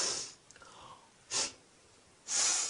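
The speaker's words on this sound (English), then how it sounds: "How do I show disapproval? Easy. You sniff." A person sniffs sharply through the nose in disapproval, two distinct breathy snorts, the second longer and trailing off, close and clear with no talking.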